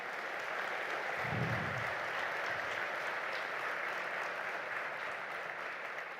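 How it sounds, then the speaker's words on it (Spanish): Church congregation applauding at a worship service, a continuous broad wash of clapping held evenly throughout, with a brief low murmur early on and no clear speech. "Dele un fuerte aplauso al Señor."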